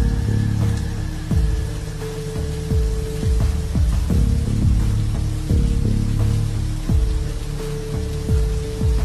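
Steady rain patters on a surface, with occasional dull thuds recurring over the constant hiss.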